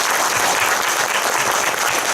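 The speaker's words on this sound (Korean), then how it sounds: "오늘 방송을 함께 해주신 김원민 감독님께 큰 박수 한번 더 드리면서 감사합니다" Steady, dense applause from a cinema audience at a post-screening talk with a film director in a Seoul theater, loud and continuous throughout.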